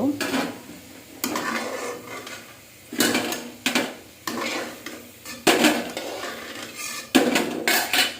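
Fried potato pieces lifted out of a pan one by one, with irregular clinks and scrapes of a utensil against the pan over a soft background sizzle.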